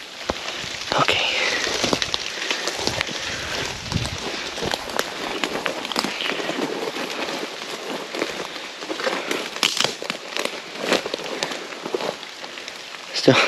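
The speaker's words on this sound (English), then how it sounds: "Of course, it's rain." Rain falls on leaves and ground in woods during a deer hunt, a faint, steady patter with scattered drips and crackles and some movement noise.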